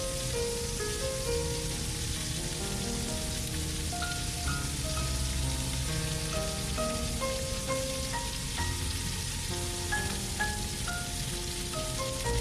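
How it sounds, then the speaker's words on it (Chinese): Pork belly sears two-sided to golden in a pan on an induction cooker at medium setting, giving a constant crackling sizzle under a light background melody. "首先将五花肉的2面都煎成金黄色。"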